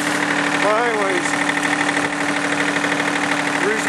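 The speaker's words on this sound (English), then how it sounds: "Something ain't sounding right with the tractor right now" A tractor engine running rough, idling loudly and steadily throughout with a low, uneven knocking drone in cold winter conditions during snow removal, while a muffled voice speaks briefly over it.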